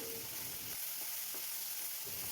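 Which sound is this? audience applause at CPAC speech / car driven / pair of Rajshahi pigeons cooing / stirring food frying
stirring food frying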